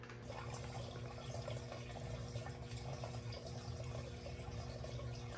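Fuel, aviation gasoline, drains steadily from a snowmobile tank through a siphon line, a continuous soft trickling and gurgling with no pauses, faint and close.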